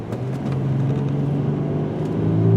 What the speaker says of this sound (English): We're going to come up to the straightaway and see what this car can do for acceleration.